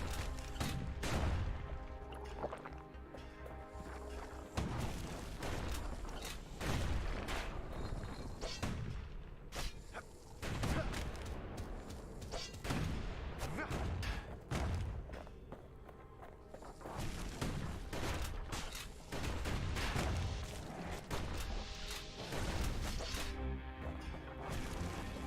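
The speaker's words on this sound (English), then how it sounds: "Kid's blasting everything in sight with that newfangled musket" Musket gunfire in the video game Bastion, dense repeated blasts and crashing impacts nearly nonstop over a loud, busy game soundscape.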